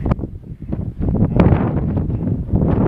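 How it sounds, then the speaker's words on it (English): Strong wind buffets the microphone in loud, gusty rumbles that rise and fall throughout. "boy is it windy here"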